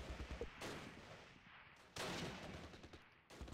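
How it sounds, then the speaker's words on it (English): Mortar hit in the Close Combat: The Longest Day video game, three sudden broadband blasts with short decays over a faint background of scattered gunfire, quiet overall. "Okay, another mortar hit."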